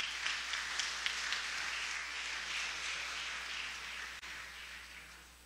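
Steady applause from a church congregation welcoming a pastor at an Easter service, a broad sustained clapping that fades slightly toward the end.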